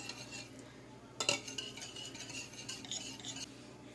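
Yogurt and unscented oil are whisked together in a bowl for a rose milk cake, soft rhythmic clinks and scrapes of a utensil against the bowl with one sharper knock.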